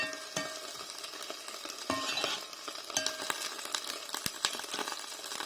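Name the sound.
greens simmering in a covered pan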